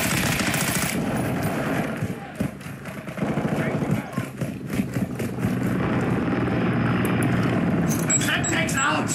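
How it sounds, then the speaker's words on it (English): Video game combat with an overwatch helicopter providing air support, rapid machine-gun bursts and rotor drone mixed with loud in-game voices calling out orders. "Friendly Overwatch helo in the area."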